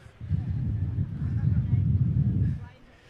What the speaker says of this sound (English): I actually wasn't expecting it to be this windy.